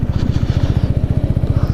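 Kawasaki Z125 motorcycle engine running at a steady, fast putter during wheelie practice, loud and close with a rapid even pulse and no talk.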